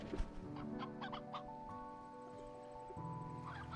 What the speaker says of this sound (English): The chickens do multiply so fast